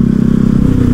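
Yamaha R15 V3 motorcycle engine running close by, a loud steady low rumble with fast rhythmic pulsing, no voices.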